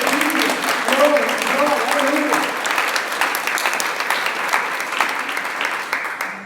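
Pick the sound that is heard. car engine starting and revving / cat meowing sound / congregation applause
congregation applause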